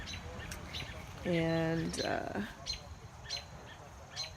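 Baby birds chirping in a nest on a backyard swing set, with a prominent harmonic squawk burst and several brief high chirps while a person speaks nearby.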